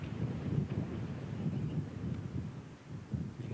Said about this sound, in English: You can hear the wind gusting in the background.